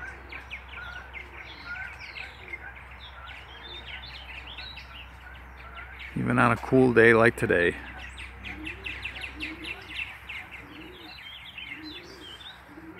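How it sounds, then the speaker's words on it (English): Purple martins chatter around nest boxes outdoors, a busy stream of quick chirps and warbling calls at moderate distance running the whole time, with someone briefly speaking close up in the middle. "the martins are busy building nests and just chattering away today"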